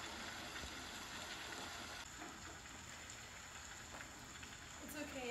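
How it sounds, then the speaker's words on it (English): Soft, steady rainfall with a constant hiss and occasional faint drips, fairly quiet and distant, with no talking. "The rain has calmed down."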